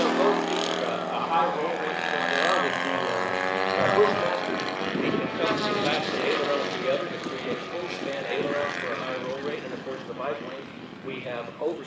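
RC model aircraft fly at a noon demo show, their engines droning and shifting in pitch at a distance beneath someone talking over a loudspeaker through most of the clip.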